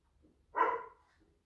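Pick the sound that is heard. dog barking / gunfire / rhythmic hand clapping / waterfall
dog barking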